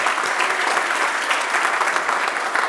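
Audience applause fills a hall at an Arduino Day 2019 event, a dense, steady wash of many hands clapping at close range with no voices over it, holding evenly for a few seconds.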